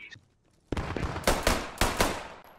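Machine gun fire in Post Scriptum, a World War II shooter, sharp loud bursts of rapid shots in several quick volleys after a brief quiet pause.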